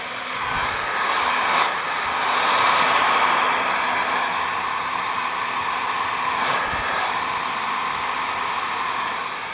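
Heat gun warming matte vinyl wrap on a Toyota Tacoma tailgate, held back from the surface: a steady, close, airy blowing roar running throughout with slight swells, no talk.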